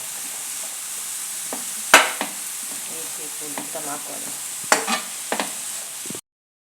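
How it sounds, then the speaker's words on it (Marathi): Onion, tomato, chilli and mushroom fry in a hot pan with a constant bright sizzle, and a few utensil clacks and scrapes sound as the vegetables are stirred before the sound cuts off. "कांदो टोमोट मिरसांग आनी मशरूम घालून मातशें भाजून घेता"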